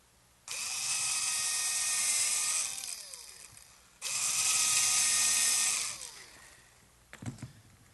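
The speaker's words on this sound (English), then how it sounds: "I'm going to have to drill a pilot hole for the screws, especially in this hard oak." A power drill whines at high speed in two long bursts of a few seconds each, drilling pilot holes in hard oak, winding down after each, followed by a faint clatter.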